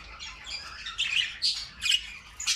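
A female jumbo budgerigar held in the hand squawks and chirps in a series of shrill, close, loud calls, alone without talk.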